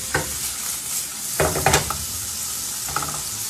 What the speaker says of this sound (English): you're going to want to keep stirring this and sauteing your pancetta until it's cooked.